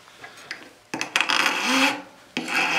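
A hand file rasps across metal to make a flat spot on jewelry wire, a few short scrapes followed by longer rough strokes, close and clear with no talk.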